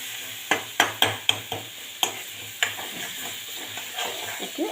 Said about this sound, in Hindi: ठीक है, अदरक को भुनेंगे।